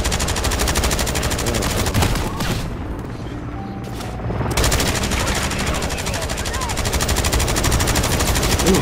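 Sustained automatic gunfire from a Call of Duty match, dense rapid bursts and booms filling nearly the whole stretch, easing briefly in the middle before resuming at full loudness.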